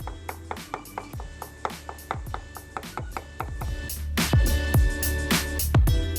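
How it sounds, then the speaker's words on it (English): A knife chops eggs and other ingredients finely on a board. Close, crisp strikes come in a steady rhythm that quickens and grows denser toward the end. "And just chop it up pretty finely."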